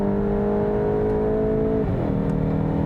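A 2022 Volkswagen GTI hot hatch accelerates at full throttle on a track, its engine droning loud and steady before the pitch drops sharply at an upshift, then builds again.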